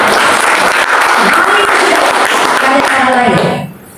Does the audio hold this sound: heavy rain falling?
no